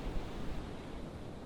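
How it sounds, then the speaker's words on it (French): Soft, steady wash of ocean waves on the Petite Mer in Morbihan, Brittany, a faint continuous hiss heard from a distance with no voices. "Vous entendez le bruit des vagues?"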